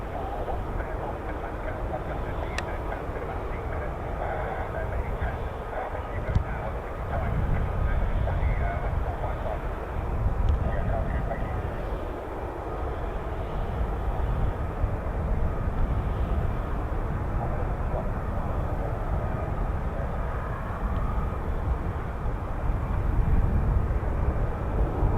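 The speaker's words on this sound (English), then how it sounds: "So we have 3 F-35Bs" Three F-35B stealth fighter jets with a naval air squadron make a distant, continuous low jet roar and rumble that holds steady throughout, broad and muffled, without clear passes or peaks.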